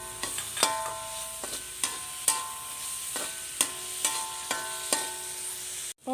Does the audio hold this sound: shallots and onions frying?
yes